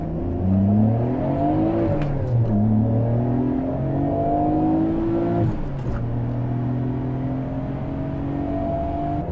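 A 1993 Nissan GT-R R32 engine revs up steadily through the gears, its tone climbing in several long sweeps with brief dips at the shifts, heard from inside the car.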